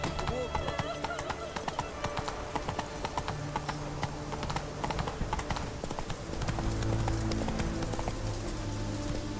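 Geralt's horse Roach galloping in The Witcher 3: Wild Hunt, steady rhythmic hoofbeats clopping close throughout, mixed with game music and ambience.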